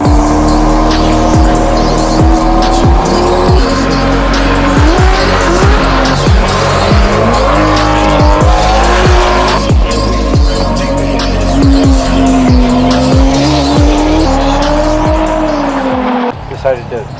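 A Nissan Z drifts on a private race track, its engine roaring loudly and continuously while tires squeal and skid through repeated slides, with faint voices under the noise before a sudden cut near the end.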